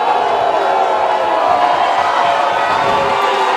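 A high school basketball crowd at a J.P. Stevens versus Edison game roars and cheers continuously, a loud, dense wash of voices and shouts filling the gym throughout.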